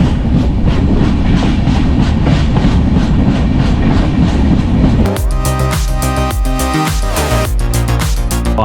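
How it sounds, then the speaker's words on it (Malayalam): The Alleppey-Dhanbad Express runs on rails toward Palakkad station, a loud, close continuous rumble of wagons. Partway through it shifts to sharp, rhythmic clickety-clack and metallic squeals as the train crosses yard points. "സ്റ്റേഷനിലേക്ക് നമ്മുടെ ട്രെയിൻ പ്രവേശിക്കുകയാണ്."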